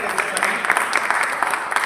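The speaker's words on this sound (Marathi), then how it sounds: "सोशल फाउंडेशनचे हसनभाई मुलानी एकदा जोरदार टाळ्या झाल्या पाहिजे." An audience claps at a Republic Day felicitation event for disabled people in Sambhajinagar, producing a dense, even burst of applause with a voice speaking over it.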